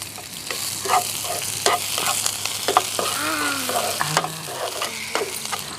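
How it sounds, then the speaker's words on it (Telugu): Finely chopped onions sizzle and fry in a hot pan already seasoned with pepper powder, a steady loud crackle close by with stirring scrapes and occasional clinks throughout. "తర్వాత వెంటనే చిన్న కట్ చేసుకున్న ఆనియన్స్ వేసేసుకుంటున్నా"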